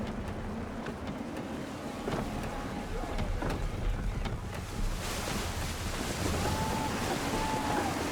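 Gusty wind and rolling ocean waves surround a sailing ship at sea in Assassin's Creed III, a steady broadband rush that swells louder and brighter midway, with faint creaks and whistles over the water.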